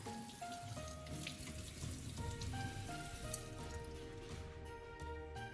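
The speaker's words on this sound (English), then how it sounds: "rinse the bananas thoroughly under running water to remove any lingering vinegar" A kitchen tap runs steadily while bananas are rinsed beneath it, a close, continuous splashing stream with small irregular drips and water patter shifting as the fruit moves under the flow.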